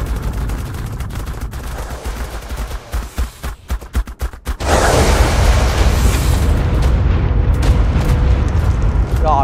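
Gunfire in the video game ARK Omega: a rapid burst of sharp shots cracks out, then gives way to a louder sustained roaring blast that fills the rest of the clip.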